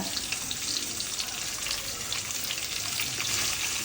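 Fish, onion and lemon leaves fry in hot oil for a mash dish, giving a dense, steady sizzle up close that fills the whole moment without any talk.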